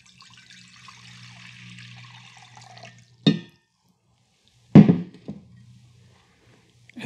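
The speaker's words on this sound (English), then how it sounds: "pours water into a basin" Water poured into a basin gives a soft trickling wash that fades, then two sharp splashing bursts separated by quiet gaps, heard close and alone.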